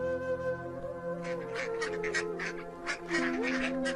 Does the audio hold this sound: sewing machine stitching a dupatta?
no